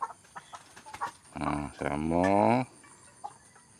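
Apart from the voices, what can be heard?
chickens clucking, village chicken and O-Shamo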